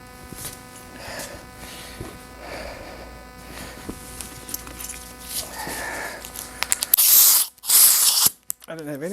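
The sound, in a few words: compressed air blown through generator fuel part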